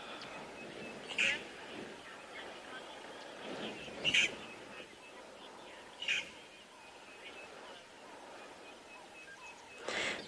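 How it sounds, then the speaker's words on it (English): Starlings call in the African bush at sunset, four short, bright calls spaced a few seconds apart, moderately distant, over a steady background of outdoor ambience and faint insect hum. "There are starlings calling in the background."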